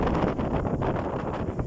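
Typhoon-strength storm wind of about 23 m/s tearing across an open field, a loud continuous roar of gusts buffeting the microphone.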